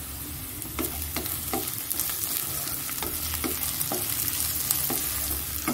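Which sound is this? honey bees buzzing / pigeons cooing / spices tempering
spices tempering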